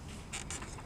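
A screwdriver prying up a relay in the fuse box of a 2010 Toyota Tundra gives a couple of brief, close creaks and plastic clicks in a quiet space.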